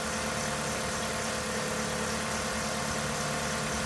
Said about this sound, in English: All right, engine is on.